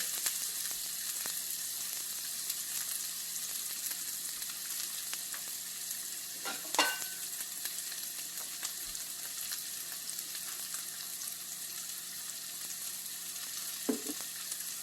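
Onions soften in a hot pan with salt, making a continuous hissing sizzle with a couple of short stirring knocks.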